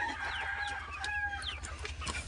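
Chickens cluck and squawk busily nearby, overlapping calls rising and falling over a low background hum.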